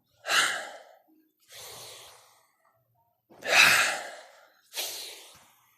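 Four close, deliberate breaths during a yoga spine flow exercise, strong airy inhales and exhales spaced about a second apart with silence in between, alone without speech.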